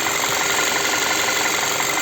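Running 2.0 TSI petrol engine of a 2016 VW Tiguan with an Aisin Tiptronic automatic, heard up close under the open hood as a steady, even idle hum with a fine mechanical ticking throughout and no talking.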